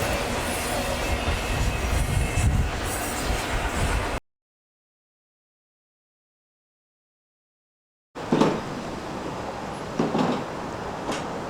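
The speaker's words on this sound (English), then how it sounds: "It was interesting to see how big this train really is close up" A big train rolls past very close in a loud continuous rumble and clatter of wheels on rails, cut off by a few seconds of total silence before the heavy rolling noise resumes.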